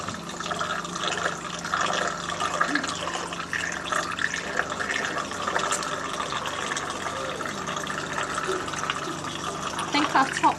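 Liquid poured quickly through a funnel into layered contents, with a steady gurgling, splashing wash and air glugging through the neck, continuous and close for the whole stretch.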